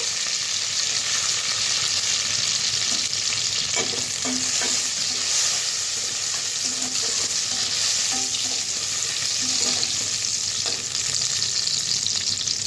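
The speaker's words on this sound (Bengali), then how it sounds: "ঘিটা গরম হয়ে গেছে, তো কাজু আর কিশমিশটা আমি ছেড়ে দেবো" Cashews and raisins frying in hot ghee, a steady sizzle with occasional stirring scrapes and clinks of a utensil, no talking.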